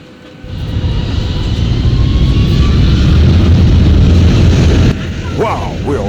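An airplane takes off as a radio-drama sound effect, with an engine roar rising quickly and holding loud before it drops away into a lower rumble, overlaid by a brief warbling tone near the end.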